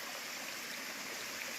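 Mountain stream on the Appalachian Trail flowing steadily, a continuous broadband rush of water, close and fairly quiet, with no voices.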